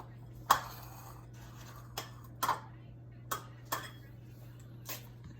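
Eggs are cracked one at a time into a separate bowl for cupcake batter, giving a handful of sharp, isolated taps and clicks against the bowl, close by, with quiet gaps between them.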